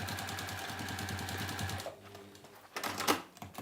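A sewing machine stitches straight across tote bag fabric in a quick, close, rhythmic burst, then slows and stops with a few faint clicks and taps of handling.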